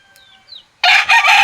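A rooster crows loudly and close by, a harsh drawn-out call that comes after a few faint chirps.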